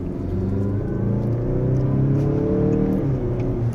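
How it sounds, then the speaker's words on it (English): A Mazda CX-9 in sport mode accelerates quickly in second gear, a steady, rising engine and road drone heard close from inside the cabin, with no talking. "Very quick acceleration."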